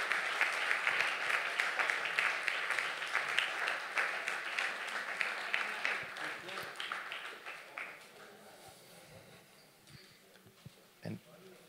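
An audience at a forestry conference in Europe gives sustained applause, dense clapping that gradually thins and fades toward the end.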